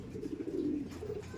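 Low, soft cooing of a young pigeon wearing double leg bands, a continuous murmuring call close by with no talk over it.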